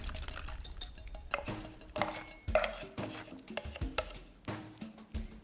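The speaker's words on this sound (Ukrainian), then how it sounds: "І нашу масу ми можемо переливати ось в цю ванночку." Blended paper pulp is poured into a tray, wet sloshing mixed with light clinks and knocks of a container, close and fairly quiet with no talk.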